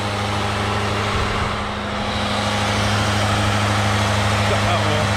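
Range Rover L405 engine idling before being shut off, a steady loud low hum with a constant drone that stays even throughout, close to the listener.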